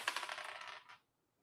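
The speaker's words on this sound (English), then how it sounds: "All right, rolling the dice." Dice rolling sound effect in a fantasy football draft app: a bright, dense rattle of small tumbling clicks lasting just under a second, then stopping abruptly into silence.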